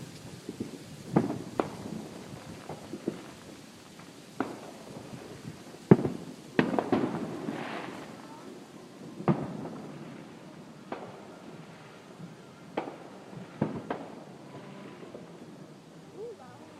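Fourth of July fireworks pop and boom at a distance, a dozen or so scattered sharp bursts over a steady rumbling crowd murmur, with people chatting faintly in between.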